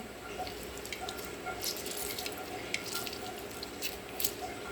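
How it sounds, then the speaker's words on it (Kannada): Half a lemon is squeezed into water in a home kitchen, giving soft, faint dripping and trickling with a few light splashes against a quiet background. "ಒಂದು ಅರ್ಧ ಲಿಂಬೆ ತೊಗೊಂಡಿದ್ದೀನಿ ನೀರಲ್ಲಿ ಹಿಂಡಿ ತೆಗಿಬೇಕು"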